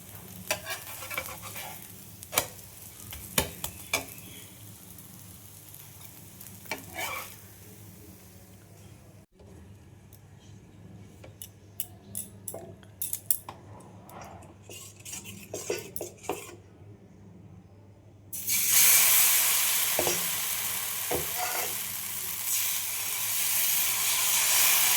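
Two pieces of breakfast food frying in a pan, with a faint sizzle under scattered clinks and scrapes of a utensil against the pan, then a loud rush of hissing sizzle for the final stretch.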